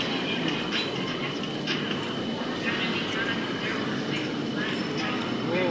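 An elevated electric train runs past overhead in Thailand, a steady broadband rumble and whoosh filling the space, with crowd noise and someone talking throughout.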